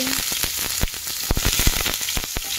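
Sliced papaya and other vegetables hit hot cooking oil in a pan for a chicken stew, a close, loud sizzle with rapid crackling pops and a few scraping stirs, no talking.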